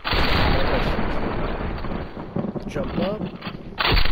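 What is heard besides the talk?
gunshots from the video game Fortnite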